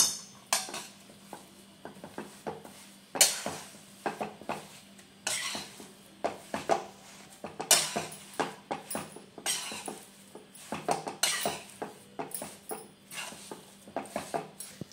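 Spiced potato filling for samosas, with salt and coriander, is stirred in a pan: a string of short scraping and knocking strokes against the metal in a loose rhythm, close by, with faint sizzle underneath.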